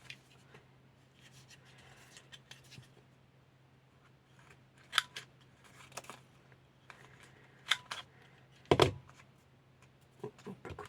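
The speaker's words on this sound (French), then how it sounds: "On peut couper la serviette." Scissors snip through a paper napkin up close in a quiet room, making soft crisp cuts that come in scattered clusters with short pauses. One sharper snip stands out near the end. No one speaks.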